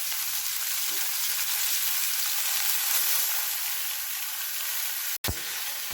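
Squeezed bitter gourd (uste) frying in hot edible coconut oil gives a steady, close hiss and crackle of sizzling, continuous throughout, with one sharp click near the end and no voices.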